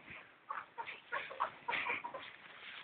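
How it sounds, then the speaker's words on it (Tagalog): Chickens, including young stags and a rooster, cluck and chatter together on the range at Tres Hermanos Farm, a busy, moderately distant flock with overlapping calls. "Yan ang mga manok dito"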